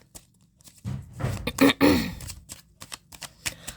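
Tarot cards are shuffled up close in one quick riffling burst lasting about a second, followed by a few soft taps and flicks of the deck.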